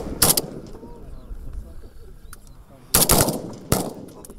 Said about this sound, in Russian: стрельба из автомата